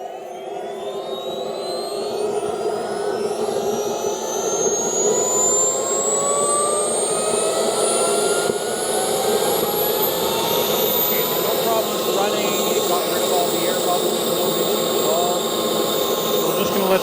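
A CARF Rebel RC jet's turbine engine runs loud and close, a steady roaring whine that climbs steadily in pitch as it throttles up toward maximum, with no voices over it.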